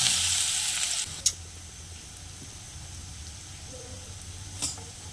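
Onions hit hot oil in a pan for a dried prawn and brinjal curry, a loud sizzle bursting at first and then settling into a quieter steady hiss, with a couple of faint clicks.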